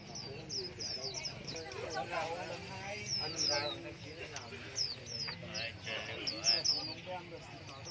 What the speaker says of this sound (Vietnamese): quế lâm ngũ sắc chè lửa cu gáy tiểu mi chè than đủ các dòng chim